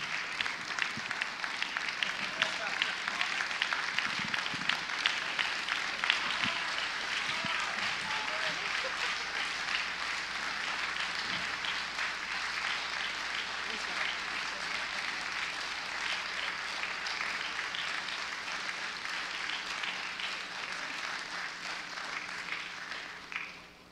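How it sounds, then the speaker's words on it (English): Applause from a concert audience, dense and steady for about twenty seconds, loud and close, fading right at the end, with some voices mixed in. "You know why they're clapping."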